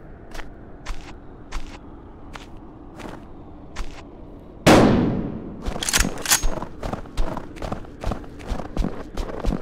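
Gunfire in a shooting game: a loud blast, then a rapid string of sharp shots, following a run of evenly spaced quieter cracks or steps.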